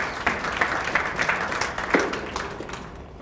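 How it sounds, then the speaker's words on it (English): An audience at an evening public meeting claps to welcome a speaker, a moderate round of applause that fades gradually over a few seconds. "So let's give John a nice round of applause."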